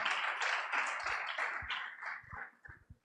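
A church congregation claps, starting as a dense, loud burst of applause that thins into scattered individual claps before fading out.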